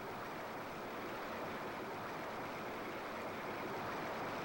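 A waterfall in the N64 game Indiana Jones and the Infernal Machine rushes in an even, broad hiss, faint and constant with no other sounds.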